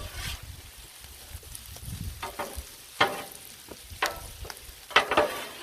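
Onions frying on a flat griddle, a close, crackling sizzle broken by several sharp scraping strokes of a spatula at uneven intervals.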